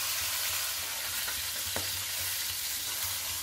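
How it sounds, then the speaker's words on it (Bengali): Fish fries lightly in oil, producing a constant, dense close-up sizzle with a couple of faint utensil taps and no voices. "মাছটা একদম হালকা করে ভেজে নেব"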